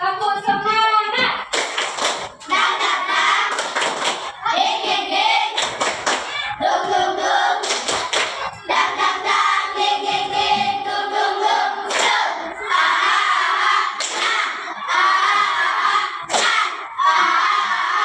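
A classroom of schoolchildren at an elementary school performs a rhythmic 'tepuk semangat' clapping chant, sharp group claps cutting through the voices chanting together in unison, loud and close.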